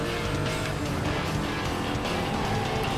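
Ford GT supercar engine in the racing game Need for Speed Most Wanted (2005), a dense, loud, continuous engine roar heard alone.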